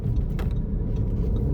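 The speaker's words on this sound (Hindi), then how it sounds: "ये जो आवाज़ आ रही है मैं इसको एंजॉय करता हूँ, डीजल के इंजन की आवाज़ है।" Diesel car engine idling or running at low speed inside the cabin during a driving lesson with a manual gearbox, a steady low rumble filling the whole moment with no speech.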